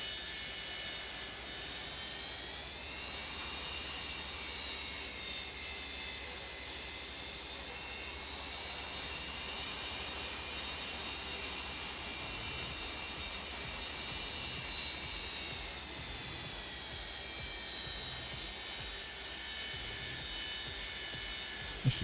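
Boeing 727 jet engines in a flight simulator game, a steady loud whine with high tonal harmonics over a low rumble while taxiing, continuous and close.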